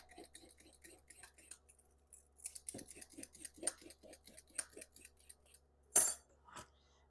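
Two carrots scraped with a peeler, a quick run of dry, rhythmic rasping strokes close by with occasional sharper clicks, no talking.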